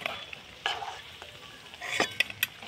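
Semolina and raw potato snacks sizzling in hot oil while being stirred. A steady low fry hiss is broken by sharper scraping bursts, with a cluster of louder stirs and crackles near the end. No voices.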